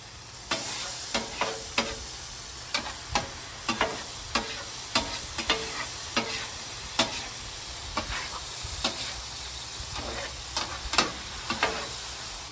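Beef stroganoff sauce with flour is stirred across a hot griddle, giving a steady sizzle with rhythmic scraping strokes about twice a second, close and fairly loud throughout with no talking.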